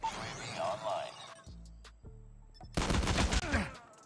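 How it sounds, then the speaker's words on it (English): Gunfire in the mobile shooter COD Mobile, bursts of rapid shots and heavy impacts mixed with game effects, loud and close, with a voice talking over part of it. "Still getting shot in the back."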